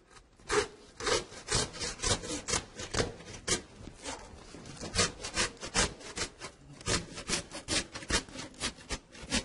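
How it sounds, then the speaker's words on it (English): A handsaw cuts through the rib bones of a pork carcass in a fast, regular back-and-forth rhythm of rasping strokes. The sawing is close and steady with no talking. "I'll cut through the bones partially"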